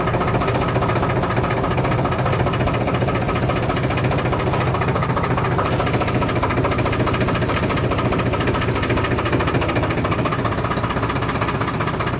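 A heavy tractor engine drones steadily and loudly under strain, a constant rumbling hum with no breaks.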